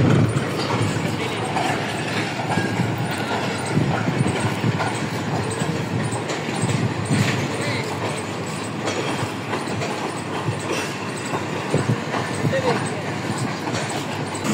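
The Pak Business Express train rake, running from Lahore to Karachi, rolls onto platform 4 with a steady loud rumble and clatter of wheels and faint squeals, while a voice talks over it.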